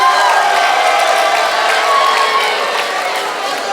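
An audience at a church talk cheers and whoops together. The loud, dense crowd noise holds steady for a few seconds and eases slightly toward the end.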